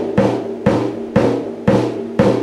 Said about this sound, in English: if you hooked up a bass drum pedal to that foot, it would sound like this